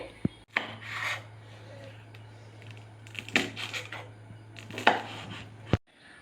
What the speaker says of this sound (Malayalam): എന്നിട്ട് നമുക്കിത് ചെറിയ ചതുര കഷ്ണങ്ങളായിട്ടൊന്ന് അരിഞ്ഞെടുക്കണം.